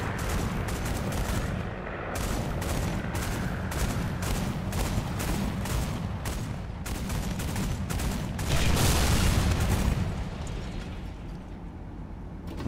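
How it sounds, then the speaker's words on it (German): Tank cannon fire and battle noise from the War Thunder game, a dense, loud continuous rumble with repeated sharp shot bursts throughout and a heavier surge near the end, no talk. "Da kam gerade ein Schuss rüber und die ISO hat geschossen."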